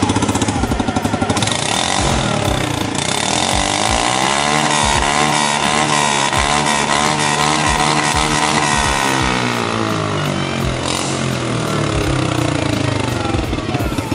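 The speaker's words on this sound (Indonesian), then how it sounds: "Earth half muffler." A Honda Beat scooter engine runs loud and steady nearby through a half-muffler exhaust, giving a rough, throaty drone that rises and dips with revs, with no talking.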